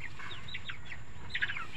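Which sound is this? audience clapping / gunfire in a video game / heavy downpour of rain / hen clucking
hen clucking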